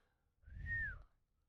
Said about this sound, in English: I gotta stop whistling into the mic.